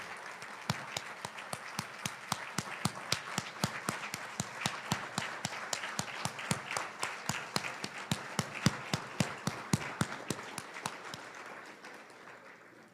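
An audience at an awards ceremony claps steadily for award-winning teams, with dense rhythmic clapping sustained for about eleven seconds before it thins and fades near the end.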